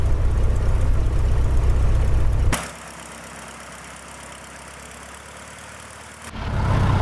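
A Cessna 150 piston engine running steadily and loud for about two and a half seconds, then dropping sharply to a quieter idle around 1,000 RPM before rising again near the end.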